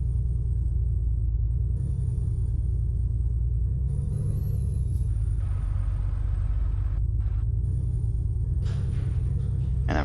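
Low, steady engine rumble from a Freightliner truck driving in Euro Truck Simulator, a continuous drone that swells slightly partway through with faint hiss above.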